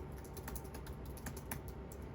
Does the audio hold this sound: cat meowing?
no